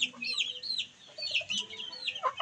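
Chickens in a newly built wooden coop give off scattered clucks and short calls at close range, several birds overlapping in an irregular rhythm with no talking.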